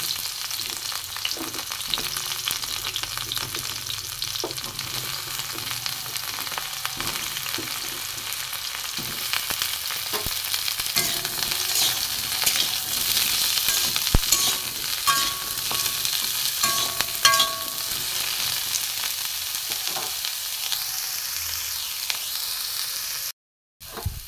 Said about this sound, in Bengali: সজনে ডাঁটাগুলো আমি ভেজে নেব।